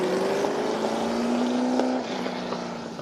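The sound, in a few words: Formula 5000 race car engine on track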